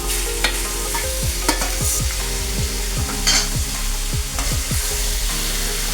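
Chicken pieces being stirred into browned onion masala in a pan, loud repeated scraping strokes of a spoon against the metal over a constant sizzle, close up, with no talking.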